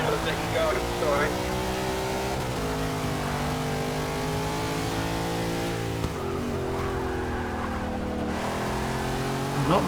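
Race cars on a circuit in the video game Forza Motorsport 6, engines whining and shifting through revs with brief tire squeal, close and steady, with someone talking over them.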